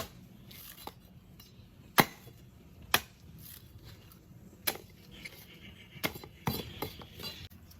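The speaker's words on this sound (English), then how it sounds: "Just give it a couple more chops, and you'll be into it" Sharp, hard whacks of a machete striking a coconut shell, several distinct chops spaced irregularly, close and fairly loud against a quiet background.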